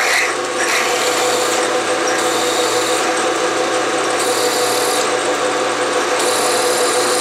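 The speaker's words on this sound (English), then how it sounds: "I drilled one hole and I will drill the other three off camera" A drill press drilling metal on a Bridgeport mill: steady, loud drilling with a continuous harsh grinding whine, the pitch shifting slightly every second or so.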